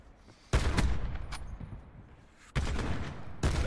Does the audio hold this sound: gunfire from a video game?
yes